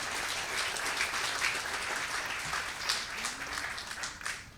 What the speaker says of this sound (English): So let's give a big round of applause to our police department.